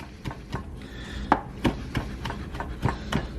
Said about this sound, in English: Take out the next bunch of herbs. Same thing. Cut it chiffonade.